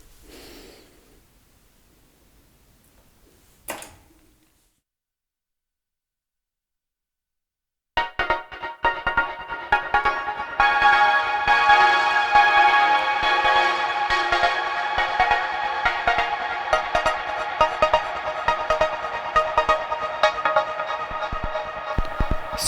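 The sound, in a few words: vinyl record fed into Quadrantid Swarm modular synth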